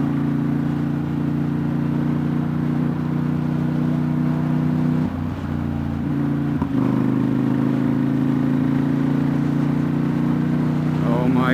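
A Ducati XDiavel S motorcycle engine idles and runs steadily nearby, with a strong low throbbing hum that dips briefly around the middle before settling back to a constant drone.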